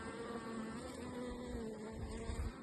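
Honey bees buzzing steadily at an open beehive with a newly added second brood box, a dense continuous drone of many insects close by, with no talking.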